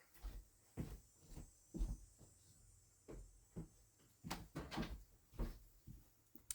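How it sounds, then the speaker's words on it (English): A door is shut indoors, with a series of soft thumps, clicks and knocks from the handling spread over a few seconds, fairly close and quiet in an otherwise hushed room. "I'm going to shut my door real quick"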